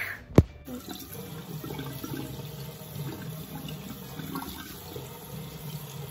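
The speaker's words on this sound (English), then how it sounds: "I'm gonna go wash my face." A bathroom tap runs steadily as a face is washed, giving a continuous moderate water rush after a single sharp knock at the start, with no talking.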